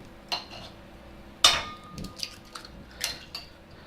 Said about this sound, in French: Casser les œufs.